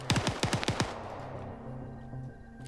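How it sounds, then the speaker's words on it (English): A rapid burst of about six video game gunshots in quick succession, loud and sharp, followed by a lingering low rumble and background hum. "And Potato should hear those gunshots"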